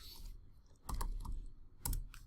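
Typing on a computer keyboard, close and fairly quiet, with two short bursts of rapid key clicks separated by a pause.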